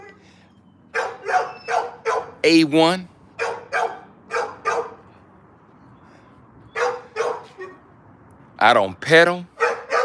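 Dogs bark in short bursts, with single woofs and clustered runs of barks, some close and loud, while someone talks between them.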